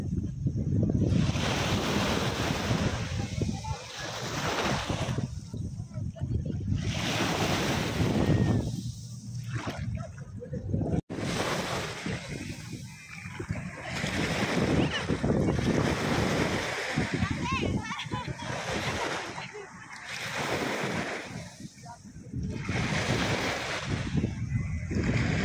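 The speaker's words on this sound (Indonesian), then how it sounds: "Ombaknya guys, subhanallah, ombaknya kenceng banget ya." Strong sea waves crash and surge at Lido beach in Hong Kong, a loud continuous roar with repeated swelling breakers and heavy wind buffeting the microphone.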